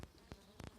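Bees buzzing around a wild honeycomb in a forest, heard as faint, brief buzzy passes near the microphone with no one speaking.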